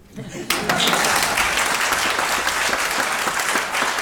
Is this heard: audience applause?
yes